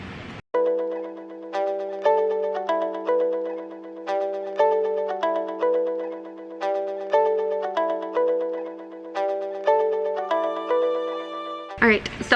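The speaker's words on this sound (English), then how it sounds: "I just got another emergency alert on my phone" A phone emergency alert plays during typhoon flooding, a repeating electronic chime pattern of bright tones over a steady low buzz, cycling about every two seconds for roughly eleven seconds, close and clear.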